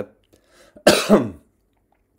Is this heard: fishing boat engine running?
no